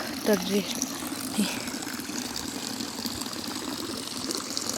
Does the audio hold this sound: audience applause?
no